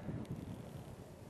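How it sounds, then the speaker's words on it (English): Wind gusting across an outdoor microphone, a faint, steady low buffeting rumble with no distinct events and no voices. "fair old gust there."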